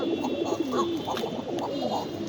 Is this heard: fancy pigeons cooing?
yes